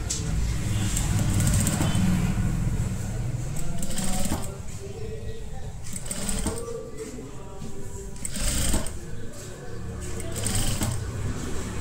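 A sewing machine stitching kurti fabric runs in a steady close mechanical whir for most of the stretch, pausing briefly now and then, with someone speaking Telugu over it.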